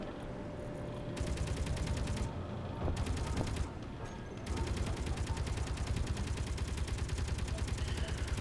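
Automated base turrets in Space Engineers firing rapid machine-gun bursts, loud and close, stopping briefly twice before resuming sustained fire.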